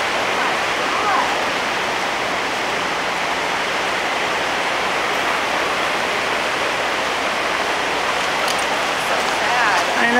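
Rushing floodwater pours across a washed-out road in Duluth after a flood, a loud, continuous roar close by with no break in the flow.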